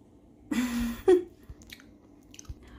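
Chewing a bite of Iranian fruit bar close to the mic, a soft squishy burst of mastication followed by a second shorter bite, then quiet with faint mouth clicks.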